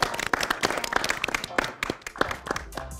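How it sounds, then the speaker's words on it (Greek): Scattered audience clapping for Ben, a shelter dog presented on a farm-themed TV segment: distinct individual claps at close range, irregular and uneven, with some talk mixed underneath. "Ένα χειροκρότημα για τον Μπεν."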